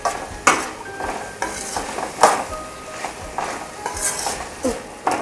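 A cabbage vegetable filling is stirred in a pan with a spoon. Several distinct scraping strokes and clinks against the metal sound close up over a faint background sizzle.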